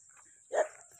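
Single short dog bark, faint and somewhat distant, heard once against quiet rural background hiss.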